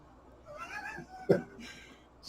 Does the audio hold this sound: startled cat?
yes